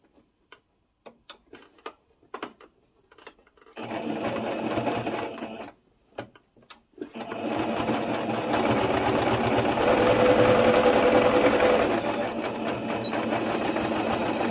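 A sewing machine stitches a seam on a pleated skirt, starting with a few light ticks and clicks, then running in two sustained, close, steady whirring bursts separated by a short pause.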